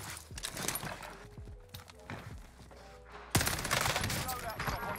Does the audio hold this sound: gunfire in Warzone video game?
yes